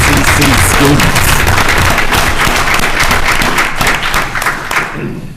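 A large crowd claps steadily in sustained, dense applause at a town board meeting, staying loud throughout, then tapering off slightly near the end.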